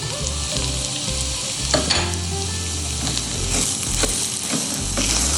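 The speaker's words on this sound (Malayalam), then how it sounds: "ഇതെല്ലാം ചേർത്ത് ഒന്നുകൂടെ മിക്സ് ചെയ്ത് ഇളക്കിയിട്ട്" Coriander, turmeric, fenugreek and asafoetida powders fry and get stirred into a Kerala-style ginger curry, giving a loud, constant hiss of sizzling oil broken by a few soft scrapes of the spoon, with no voices.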